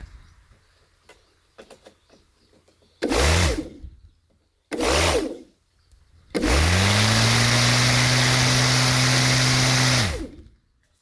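An electric Craftsman lawn mower with a homemade aluminum blade part spins up for a test run: two short motor bursts, then a steady loud whirring hum that holds for several seconds before winding down.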